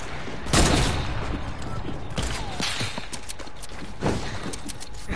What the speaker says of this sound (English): Break this wall. Like, shoot it with your heavy sniper.